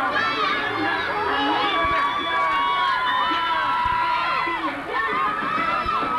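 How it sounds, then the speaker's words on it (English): A partisan crowd at an Empire Pro Wrestling event at Thompson Speedway in New England cheers, whistles and shouts continuously, with many overlapping voices filling the room at a steady high level throughout. "What a partisan crowd with all the great action here."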